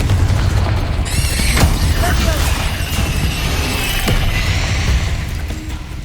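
The Confringo fire spell being cast in the video game Hogwarts Legacy: a fiery whooshing burst followed by booming impacts and crackles, loud and close, layered over a dense, rumbling battle backdrop.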